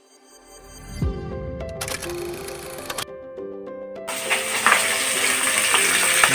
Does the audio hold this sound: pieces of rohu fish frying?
yes